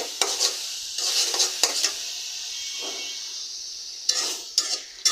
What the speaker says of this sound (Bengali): এই যে দেখেন নেড়ে ছেড়ে ভাজা ভাজা করে নিচ্ছি